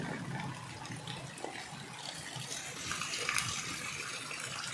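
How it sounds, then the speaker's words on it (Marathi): Rainwater flowing down the steps into a flooded house, a continuous soft gush of running water heard up close at low level, with no talk over it. "पायरीवरूनही पाणी असं येऊ राहिलं"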